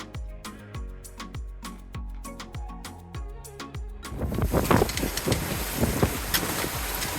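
Wind on Mobile Bay, heard from a boat: a dense, rushing roar of wind and water that rises after about four seconds, preceded by a series of rhythmic thumping knocks.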